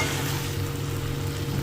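Vegetable curry of potato, eggplant, pumpkin, flat beans and pointed gourd sizzling steadily in oil as it is sautéed, a close continuous frying hiss with low bubbling underneath.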